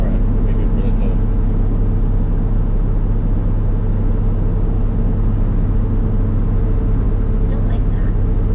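Jeep XJ engine droning steadily in fourth gear, a loud continuous low rumble with road noise throughout, with people talking over it.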